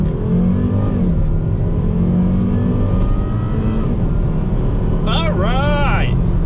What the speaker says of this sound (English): I'm gonna floor it a few times, and yeah, I guess we'll find out how this car runs.